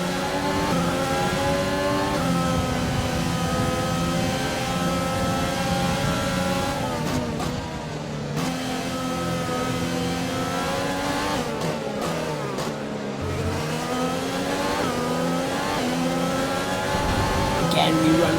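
A Formula One car's engine in the F1 2020 racing game screams continuously at high revs, with gear changes and dips through corners, close and loud throughout, while someone commentates over it.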